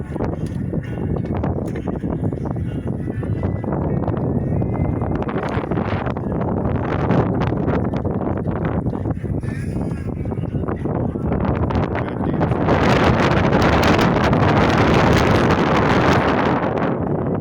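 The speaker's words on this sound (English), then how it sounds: "It's a little windy out here." Wind buffeting the microphone aboard a boat in the Florida Keys, a constant rough rumbling roar with gusts that grow stronger toward the end, no speech.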